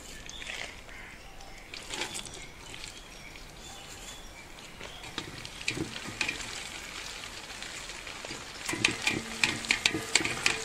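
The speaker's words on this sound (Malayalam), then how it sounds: "അണ്ടിപ്പരിപ്പ്, മുന്തിരി, അതുകൂടെ ഞാൻ ഒന്ന് പൊരിച്ചെടുക്കുന്നുണ്ട്." Cashews and raisins fry in hot oil for a biriyani, giving a soft, continuous sizzle under scraping stirs and clinks of a spoon against the pan, louder and busier toward the end.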